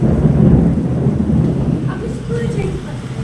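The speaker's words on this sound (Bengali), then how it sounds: "কি জোরে জোরে যেন মেঘে ডাকছে, বাজ পড়ছে কি জোরে জোরে" Loud thunder rolls through a storm in a deep, close rumble that swells and slowly fades, with rain hissing steadily beneath it.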